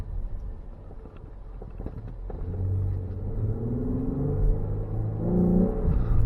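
A Ford Explorer EcoBoost engine that has been losing power runs with a deep, continuous rumble that grows slightly louder and heavier toward the end, heard from inside the vehicle with no talking.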